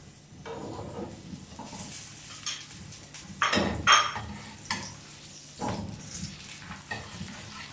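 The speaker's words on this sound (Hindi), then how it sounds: "अब हम इसे पलट लेते हैं दूसरी साइड पे और पराठे पे घी लगाएंगे" Aloo paratha frying in ghee on a pan: a soft, steady sizzle with a few louder scrapes and knocks as the flatbread is flipped and handled, close by and with no talk.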